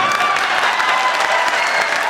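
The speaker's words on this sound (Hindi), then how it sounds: "ताली जोरदार बजा दी" Loud, dense applause from the audience at a Hindi comedy poetry gathering (hasya kavi sammelan): a crowd claps vigorously and steadily, close and full, with no pause.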